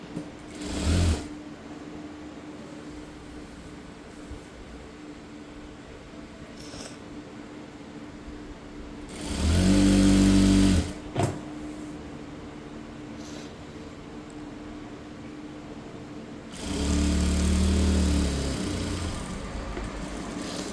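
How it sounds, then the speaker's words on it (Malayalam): Sewing machine stitching the legs of churidar pants, heard in two separate bursts of steady whirring motor run, fairly loud against a quiet room. "എന്നിട്ട് നമ്മൾ ഇതേപോലെ സ്റ്റിച്ച് ചെയ്യാം"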